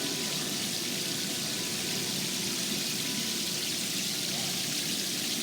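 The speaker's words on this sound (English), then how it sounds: "Wow, look at this wall of water. That's huge." A tall wall-of-water fountain in an outdoor shopping mall at Fashion Island, Newport Beach sends a steady, dense rush of falling water, loud and unbroken, with no talk over it.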